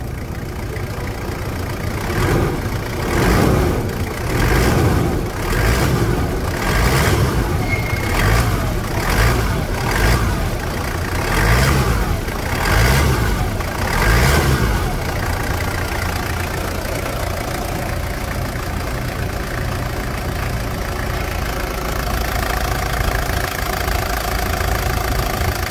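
A Toyota Land Cruiser Prado engine, checked for its engine mount and starter, is revved in a series of rhythmic repeated blips over an idle, then settles into a steady idle.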